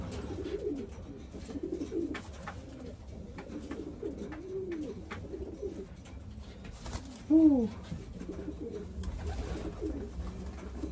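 Soft, repeated pigeon coos rolling in a low rhythm, with one louder, closer coo standing out among the murmuring flock.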